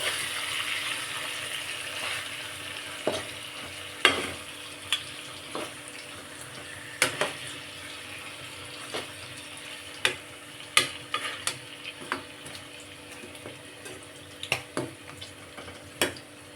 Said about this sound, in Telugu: ఇప్పుడు ఒక్కసారి మిక్స్ చేసుకుందాం